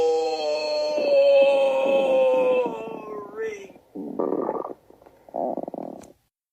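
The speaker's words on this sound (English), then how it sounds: "Your stomach growls are embarrassing me." A long, drawn-out stomach growl from a cartoon fridge character, a moaning, pitch-sliding rumble that seems voiced rather than real, followed by two shorter gurgling bursts, loud and close.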